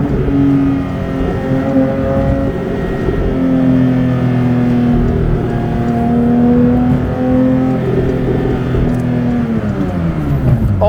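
A Porsche 911 GT3's rear-mounted engine revs loud and steady at high pitch, its tone rising and falling slightly as it holds high revs throughout.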